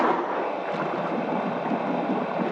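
A 2021 MasterCraft ProStar boat engine idles with its engine box closed, giving a steady, fairly quiet hum and gurgle of water with no talking.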